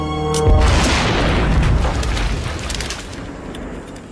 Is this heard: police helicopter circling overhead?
no